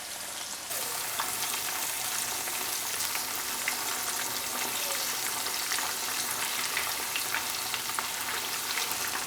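Fish pieces fry in hot oil with a steady, dense sizzle, broken by faint clinks and shifts as the pieces are turned one by one.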